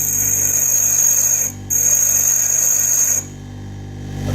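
A drill bit held against a bench grinder gives a loud, steady high-pitched grinding whine, briefly lifted off the wheel midway and then pulled away, leaving the motor humming lower as it runs on.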